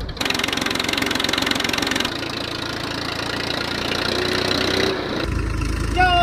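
A tractor stuck off-road strains its engine, a loud, close, rough and knocking drone that shifts pitch and intensity partway through and surges again at the end.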